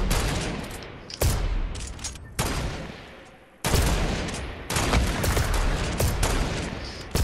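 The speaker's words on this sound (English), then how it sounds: "the amount of shots we've been taking at me right now is crazy and scary" Gunfire rattles in a Fortnite Battle Royale match as shots are fired at the player, dense loud volleys and rapid bursts in several clusters, close and sharp with brief gaps between strikes.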